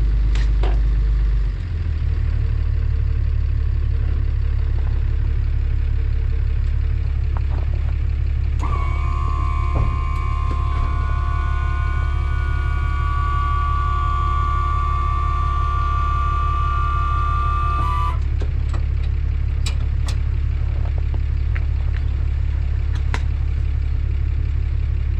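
A pickup truck towing a dumpster rental trailer drives down a residential street, its engine droning steadily and close throughout, with a sustained tonal whine rising for several seconds midway.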